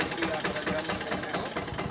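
A Balwan 500 tractor engine runs in a steady, throbbing idle with a continuous mechanical knock, loud and close, with no clear talk.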